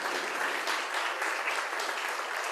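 Congregation at a worship service breaking into steady, dense applause, loud and sustained throughout with no talking over it.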